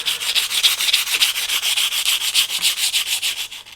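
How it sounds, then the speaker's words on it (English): Rhythmic rubbing strokes of sandpaper on a small wooden part for a Vanguard Models HM Sherbourne ship model, a steady close back-and-forth rasp repeating about five times per second, with no voices. "do longer and longer strokes so that we get a nice gentle taper evenly along the full length"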